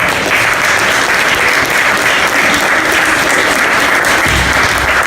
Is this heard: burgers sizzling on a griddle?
no